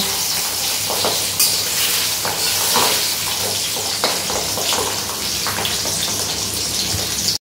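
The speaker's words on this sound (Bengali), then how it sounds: "এভাবে আমি 3 পিস করে মাছ, 4 পিস করে মাছ যে কটা ধরে আমি ভেজে নেব।" Pieces of pabda fish fry in oil, a steady close sizzle and spatter with some faint clinks, running evenly until a brief cutoff at the end.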